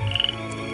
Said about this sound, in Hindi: ये मेंढक है, ये पानी में चलेगी